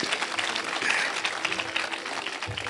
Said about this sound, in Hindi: एक बारी तालियां बजा दो जिन दोनों के लिए भी।